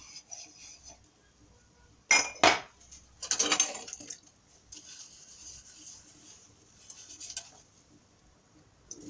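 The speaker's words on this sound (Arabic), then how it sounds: "اول ما تيجي تغسلي الكوبايات طبعا" Glass cups being washed by hand in a home kitchen, with sharp clinks and rubbing squeaks in a few brief bursts around the middle, separated by quieter scraping and trickling.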